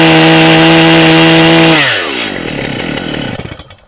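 A STIHL MS 880 Magnum chainsaw roars loud and close at a steady high idle, then winds down and sputters to a stop.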